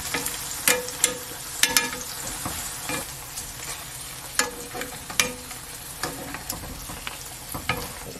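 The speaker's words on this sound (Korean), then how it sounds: "짜작거리는 그 물기가 다 빠지면서 아래쪽이 먹기 좋게 딱 이렇게 색깔 예쁘게 이렇게 익을 때까지 기다렸다가 한번 뒤집으셔야 됩니다." Tofu sizzles in a pan over low heat for spicy tofu duruchigi, a steady crackle close by with scattered sharper pops and spatters, no voices.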